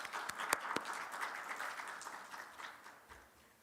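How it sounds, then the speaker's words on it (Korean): Church congregation at a Sunday youth worship service applauding to welcome new members, a dense wash of clapping with a few sharper individual claps, steady then gradually thinning out toward the end. "우리의 새 가족을 박수로 환영하도록 하겠습니다."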